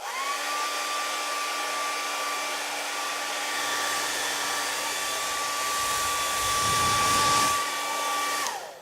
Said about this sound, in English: if you don't have a blow dryer, a hair dryer, then they will not pick you